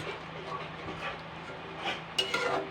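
Curry being stirred in a pot for a traditional Thakurbari-style morich jhol, a low metallic scraping and clinking of a utensil against the pot, soft and close, with a couple of sharper knocks near the end.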